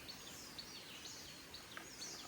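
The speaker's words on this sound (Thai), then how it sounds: "เสียงนกร้องเพราะมากๆ" Several birds sing and chirp in a forest along a walking trail, bright repeated calls spread across the clip, fairly faint and steady with no talking.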